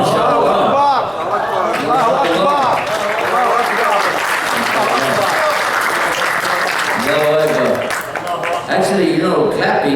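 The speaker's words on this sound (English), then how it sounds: "clapping is something that they used to do" Loud sustained applause from a large audience, steady clapping filling the whole stretch with a little crowd chatter underneath.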